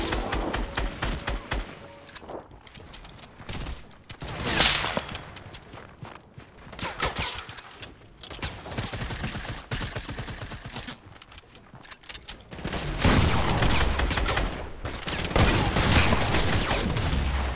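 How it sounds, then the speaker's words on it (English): Bursts of P90 submachine gun fire in Fortnite rattle out in repeated rapid volleys, mixed with footsteps and game effects, loud and up close with heavier sustained firing near the end. "He was literally shooting me with a P90."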